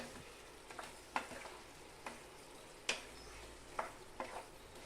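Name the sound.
stirring chilli chicken with tomato sauce in pan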